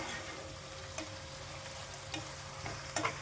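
Whole cumin seeds and sugar fry in a hot pan with oil, giving a steady close sizzle with a few light clinks as the spices are stirred.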